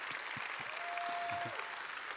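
Sustained crowd applause at a Star Wars Celebration talk in Chicago, 2019, an even roar of many hands clapping, with a brief tonal whine and a few low voices beneath.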